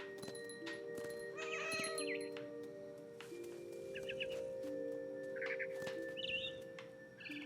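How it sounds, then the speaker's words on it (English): A cat meows several times inside the video game What Remains of Edith Finch, short tonal calls spaced out over soft, steady game ambience and music, moderately close. "I'm inexplicably a cat. I'm a cat. I'm a kitty cat."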